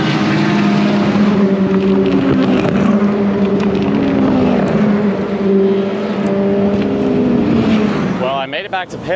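Several race cars roar past on the Road America circuit, a loud, continuous, layered engine drone that holds steady for most of the stretch, with a few sharp higher engine notes rising near the end.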